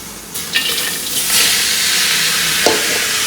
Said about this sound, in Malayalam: ഞാൻ സവാള ഇട്ട് കൊടുക്കുവാണ്.